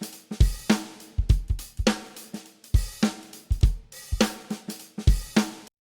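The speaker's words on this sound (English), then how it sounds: "it's just a loop of an acoustic drum set" An acoustic drum set loop with punchy kick and snare hits and a steady groove, about a dozen sharp beats repeating at a moderate tempo, dry and clear with no voices.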